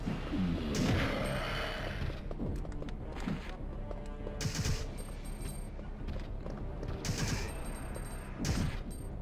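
Bursts of gunfire in Resident Evil 3: Nemesis, several sharp shots spaced across the clip at a moderate distance, with game mechanisms and background noise in between.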